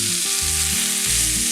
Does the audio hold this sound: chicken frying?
yes